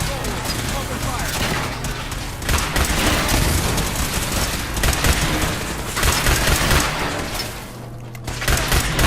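Dense gunfire and booming impacts from a firefight in the video game Fallout 4, loud and continuous with rapid bursts throughout, with voices calling out in between.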